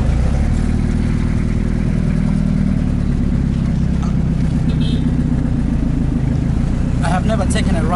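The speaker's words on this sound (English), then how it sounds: "Never taken a ride with this local kind of taxis or vehicles." A steady, loud, rumbling engine drones from a local taxi vehicle on a ride in the Philippines, a continuous close mechanical roar with some rattling and faint background sounds, and a voice briefly speaking.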